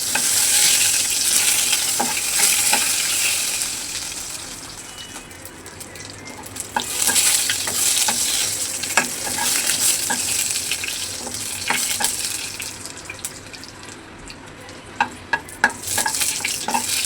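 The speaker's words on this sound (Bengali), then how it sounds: "তার জন্য তেল দিয়ে দিচ্ছি। ফোড়নে দিয়ে দেবো তেজপাতা," Bay leaf, cumin and dried chilli fry in hot oil with a steady, dense sizzle and crackle, broken by occasional clicks of stirring and utensils against the pan.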